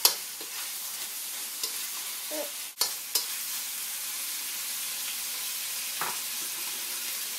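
Ma po tofu ingredients sauté in a pan with a steady, broadband sizzle, broken by a few brief scraping stirs and one sharp clatter near the middle; no one speaks.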